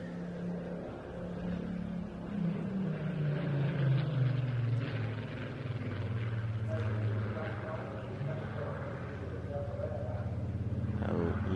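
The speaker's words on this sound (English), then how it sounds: "The aircraft comes in straight towards us on the B axis and pitches up for a half Cuban." A BBMF propeller aircraft with an elliptical wing flies straight in and pitches up into a half Cuban manoeuvre at the Bournemouth Air Festival, its engine drone steady and fairly loud, rising and shifting in pitch as it passes, with a commentator talking over it.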